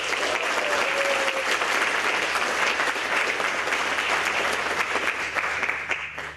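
An audience at a conference talk gives a big welcome to speaker John Thurmond, a loud, dense round of applause that holds steady for about six seconds before starting to fade.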